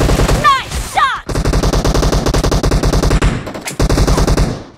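Rapid automatic gunfire from a Groza rifle in a team deathmatch shooter video game, with dense close bursts that pause briefly and then resume, plus a couple of whistling effects at the start.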